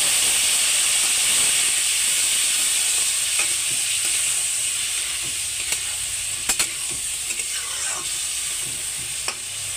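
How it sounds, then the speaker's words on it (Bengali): A Bengali fish curry with taro and potatoes, made with water and whole green chillies, simmers in a pan with a steady high hiss and sizzle, broken by a few faint clinks and stirs, with no voices. "একটু জল দিয়ে বসিয়ে দিচ্ছি"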